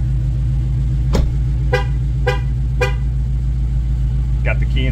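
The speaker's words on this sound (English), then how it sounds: "it does beep three times when the car's running and the key is out of the vehicle" A running Dodge Charger Scat Pack gives three short key-out warning beeps at an even pace, followed by a softer chirp, over a steady low engine idle.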